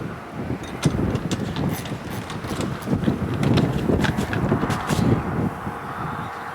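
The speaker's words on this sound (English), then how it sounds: "That's a pretty good gust." Strong outdoor wind gusts roar and buffet the microphone in uneven surges for several seconds, with no talking heard.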